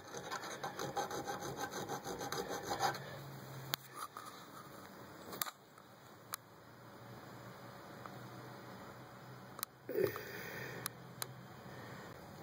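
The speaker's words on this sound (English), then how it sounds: "dress it up with a file, a piece of sandpaper, or lightly on the grinding wheel" A hand file rasps over the freshly cut end of a bolt. The quiet, rhythmic scraping strokes come close up and stop after a few seconds. Sharp clicks and taps of metal follow in a mostly quiet room.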